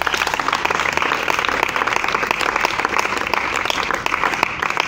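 A church congregation bursts into sustained, dense applause to acclaim the Lord, steady and loud from start to finish with a faint wash of crowd noise beneath.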